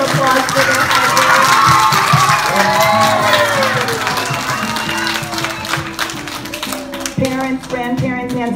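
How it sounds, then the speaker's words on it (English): Loud applause and cheering rise from a school spelling bee audience with children's high shouts and whoops over it, the crowd noise thinning toward the end as scattered voices continue. "Can we give all these contestants one more round of applause for their hard work?"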